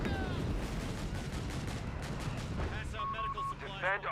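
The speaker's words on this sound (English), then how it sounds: "Creeping barrage." A creeping artillery barrage in the strategy game Company of Heroes 3, dense continuous rumbling shell impacts and gunfire under game effects, with a commentator talking over it.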